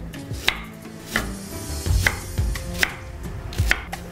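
Fresh ginger being finely chopped with a knife on a board for a Mughlai moong dal, with sharp, spaced chops close by, falling irregularly about once or twice a second, and no talking.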